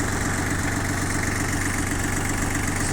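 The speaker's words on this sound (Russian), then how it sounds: "Полноприводный тракторочек с хорошей мощностью и надежнейшим японским дизелем." A Yanmar F18D four-wheel-drive mini tractor idles on its three-cylinder Japanese diesel, a steady, close, even chugging throb with no voices.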